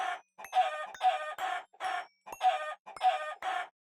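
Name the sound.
chickens clucking in Minecraft Skyblock video game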